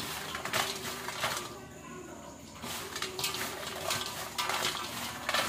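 Crispy homemade fried potato chips, tossed with salt and spice, rattle and clatter in a dish in bursts of dry, crunchy rustling, close and fairly loud with a brief quieter pause.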